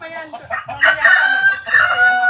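Close, loud rooster crowing with hens clucking around it, a continuous stretch of farmyard chicken calls on a farm in Iloilo, Philippines.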